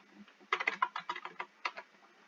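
Fingers tapping out a short burst of keystrokes on a computer keyboard, quick soft clicks heard close and quiet with no voice over them.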